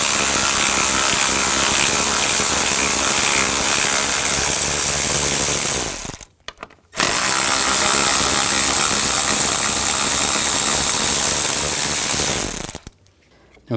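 A ratchet wrench with a 13mm socket spins out two bolts on a 2004-2009 Audi A4 during cooling fan control module removal, giving two long, loud, close-up bursts of rapid clicking separated by a short pause.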